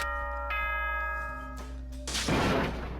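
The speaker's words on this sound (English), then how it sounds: "Ding dong, bing bong." Announcement chime from the Danganronpa video game, a two-note bell-like ding-dong ringing clearly, followed by a burst of noisy static.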